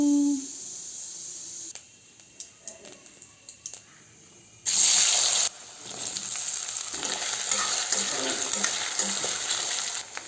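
Okra and potatoes fry in a home-cooking pan, with faint sizzling and stirring clatter at first, then a sudden loud burst of hissing sizzle that settles into steady frying, heard alone.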